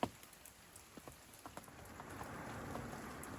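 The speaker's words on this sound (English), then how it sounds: "Rain's coming back in again." Rain falls steadily at a fishing lake at night, a faint, even patter with scattered drops ticking near the start, the hiss thickening slightly toward the end.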